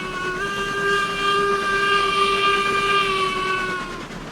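A steam train whistle sounds in the Railroads Online video game, a long steady multi-tone blast over a rumbling background that tapers off at the end, with no talking.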